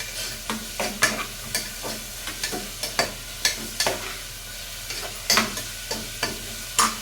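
Food fries in a pan with a soft, continuous sizzle broken by frequent sharp crackles and stirring scrapes, fairly close and moderately quiet.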